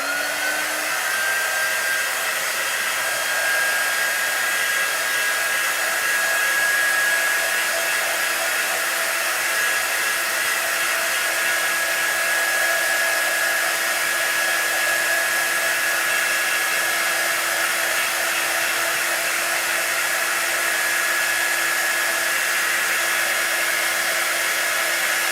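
A hair dryer blows steadily on chalk art, a loud, continuous whooshing drone with a faint high whine that holds unchanged throughout, with no voices.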